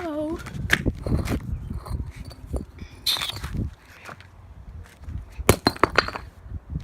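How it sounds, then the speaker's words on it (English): A brick smashes a fake wooden toy railway engine in repeated sharp cracking, clattering blows with pieces breaking off, interspersed with someone talking between hits. "Broke off part of it, smashed the wheel."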